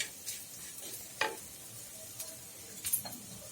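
Chili powder frying in a pan for a sardine curry gives a faint, steady sizzle with a few soft scrapes of stirring.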